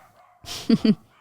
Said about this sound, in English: Sorry guys, if you hear the barking.